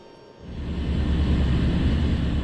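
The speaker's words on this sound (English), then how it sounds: "Pagasa has barely enough runway for our plane to land" An airplane comes in to land on Pagasa Island, a tiny South China Sea island with a very short runway. Its engine roar swells in after a brief quiet start, then holds as a loud, steady drone.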